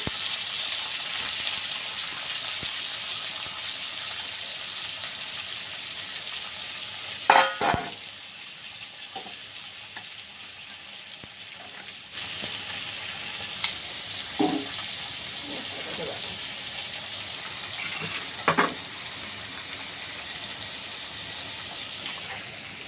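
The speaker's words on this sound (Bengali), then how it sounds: "এগুলোও দিয়ে দেবো, ওর সাথে ভাজা হয়ে যাবে" Onion and other vegetables sizzle steadily in a hot pan, a continuous close frying hiss with a few sharper stirring scrapes and clatters along the way, no voices over it.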